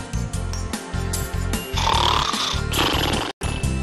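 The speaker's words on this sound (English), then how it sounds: "I think I know. Someone's snoring." A person snoring in a children's sound-guessing segment: a loud, close run of rhythmic rasping snorts with a rattling, pig-like quality, heard on its own without talk.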